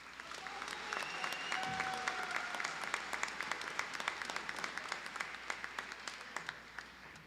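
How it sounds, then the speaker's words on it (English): A large audience at the 57th Terra State commencement ceremony bursts into sustained applause, with dense, even clapping that fills the hall for several seconds without a break. "Please join me in a round of applause this evening."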